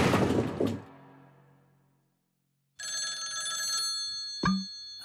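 In a Tom and Jerry cartoon, a crystal ball rings with a bright, sustained telephone-style bell for about two seconds after a short burst of noise, ending with a dull thunk.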